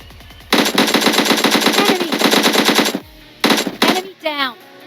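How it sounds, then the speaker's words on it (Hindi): Rapid automatic AKM rifle fire in PUBG, a long loud burst of evenly spaced shots followed after a pause by two shorter bursts, with sharp close reports and ringing tails. "अब AKM के 2 हेडशॉट इसे पहले ही पड़ चुके थे"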